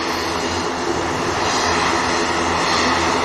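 A KLM airliner lines up at Manchester Airport, its engines holding a steady, loud, broad roar throughout.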